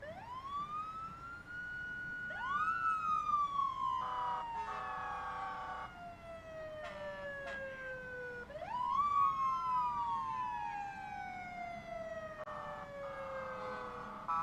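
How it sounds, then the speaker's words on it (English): Fire department sirens from the Hilltop Volunteer Fire Department's trucks at a Christmas parade, loud wailing tones rising and falling in repeated sweeps with overlapping siren layers and horn-like blasts between them, close by. "I hear some sirens behind us. Looks like we have the Hilltop Fire Department"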